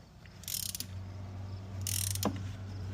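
A ratchet with a 27 mm socket on a long extension loosens a fitting during an oil change on a 2023+ Mercedes-Benz Sprinter 2.0L diesel van, making two short, close bursts of rapid clicking over a low background hum.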